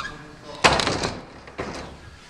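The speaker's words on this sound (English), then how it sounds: "Just close the door." A house door, probably at a snowboarders' lodge, shuts with a sharp close and a second softer knock, close by and under light ambient noise.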